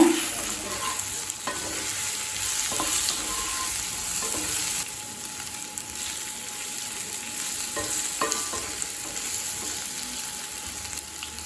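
Elephant foot yam frying with pepper and salt, stirred steadily in a pan with a constant close sizzle and occasional scraping strokes of a spoon.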